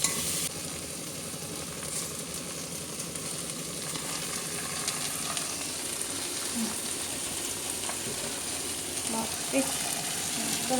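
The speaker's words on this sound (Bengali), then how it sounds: "এই যে পেঁয়াজটাও দেখো নরম হয়ে ভাজাও হয়ে হয়ে এসছে" Onions fry in oil in a pan with a steady, dense sizzle. The sizzle stays continuous and close, with faint stirring clinks toward the end.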